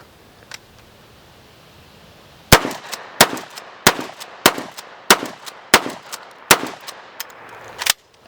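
Winchester 1300 pump shotgun cycled repeatedly, about ten sharp metallic clacks of the slide action in a steady rhythm, close and loud, with no talk.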